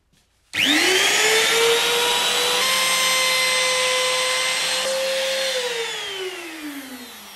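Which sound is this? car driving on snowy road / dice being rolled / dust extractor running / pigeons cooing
dust extractor running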